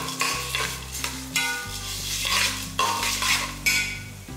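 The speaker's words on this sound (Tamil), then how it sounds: "இது எல்லாமே நல்லா வறுத்துடலாம்" Cinnamon, cloves, stone flower and cardamom roast in a pan for a country chicken curry, with rhythmic stirring scrapes over a steady sizzle and a sustained tonal background, close and with no voices.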